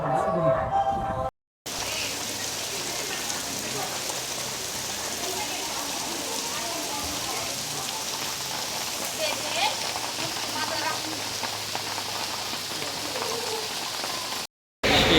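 Steady rain falling on the wet stone stairway of the Tirumala climb, a dense continuous patter close around the listener, lasting well over ten seconds with a brief cut near the start and end.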